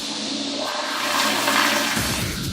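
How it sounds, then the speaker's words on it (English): A toilet flushes in one steady rush of water lasting a couple of seconds, loud and close, with the sound changing near the end as the bowl drains. No one speaks. "here on Earth, it's the force of gravity that lets toilets flush"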